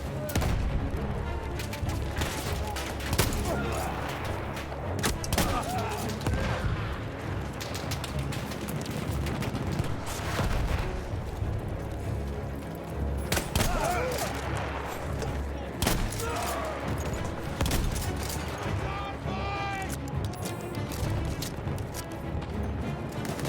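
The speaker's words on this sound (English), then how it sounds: "Oh, that's a turret." Turret gunfire in the Battlefield 1 campaign: repeated heavy bursts and shots thump through a dense, noisy battle soundscape for a sustained stretch, with a player talking over them.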